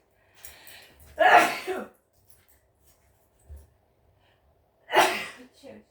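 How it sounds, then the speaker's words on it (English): A single sharp sneeze bursts out close by, followed by a second quick explosive burst a few seconds later, with soft breaths between. "I'm going to sneeze."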